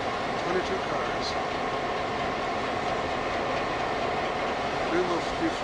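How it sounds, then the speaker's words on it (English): A 22-car Grand Trunk Western freight train hauled by a GP-9 locomotive rolls past with a steady low rumble and faint wheel clatter, close and continuous, with occasional faint squeals. "Here's her train, 22 cars."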